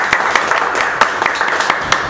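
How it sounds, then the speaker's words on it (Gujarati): A seated audience at Bonito Tea Cafe & Fast Food in Rajkot claps steadily and close by, with dense, irregular hand claps filling the whole short stretch. "તાળી વગાડો જેટલે બેઠા છે."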